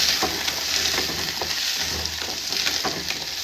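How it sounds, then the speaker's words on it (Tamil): Onions, cumin and fennel frying in oil in a pan for a goat head curry, giving a steady close sizzle with occasional stirring scrapes throughout. "நல்லா வெங்காயம் செவக்க வறுக்க ஜீரகம் போடுறதுங்க."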